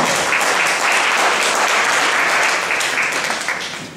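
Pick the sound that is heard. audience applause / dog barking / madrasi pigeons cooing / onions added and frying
audience applause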